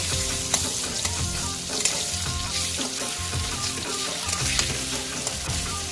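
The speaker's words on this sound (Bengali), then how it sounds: "মাছটা এক পিট ভাজা হয়ে গেছে এবার আমি উল্টে অপর পিটটা ভাজা করে নেব" Hilsa fish steak frying in hot oil in a kadai and being turned to cook the other side, a steady close, loud sizzle with a few sharp spatter pops and scraping stirs, no voices.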